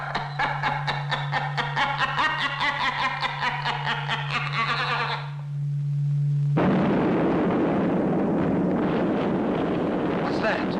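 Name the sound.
explosion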